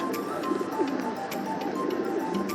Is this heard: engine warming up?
no